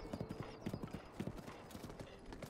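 Rapid, rhythmic clip-clop of a white horse's hooves galloping in The Legend of Zelda: Breath of the Wild, steady close hoofbeats throughout, with someone speaking softly underneath.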